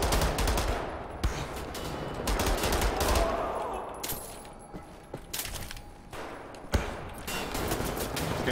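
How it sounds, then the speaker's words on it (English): Bursts of gunfire from Wolfenstein: The New Order, automatic shots repeating in uneven volleys over about eight seconds with a few louder sharp cracks. "I don't know where you're shooting me from"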